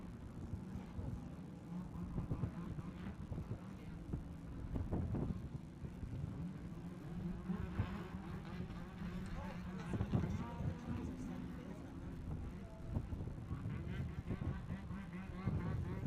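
Pond racing machines idle on the ice at a Grey Eagle, Minnesota event, a steady low engine drone with a few revving surges, heard under talk and crowd noise throughout.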